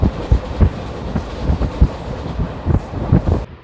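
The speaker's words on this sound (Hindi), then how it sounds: "पूरे 110 की रफ्तार में इंटरसिटी हो चुकी है पागल फाजिल वाली।" The 14507 Delhi Fazilka Intercity Express running at 110 km/h, with rapid rhythmic clacking of wheels over rail joints under a constant rumble, loud and close.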